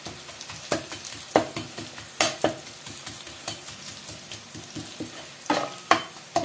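Tempering spices for a preserved coriander pickle crackle and sizzle in hot oil, with sharp irregular pops and spatters over a continuous frying hiss, heard close and with no talk.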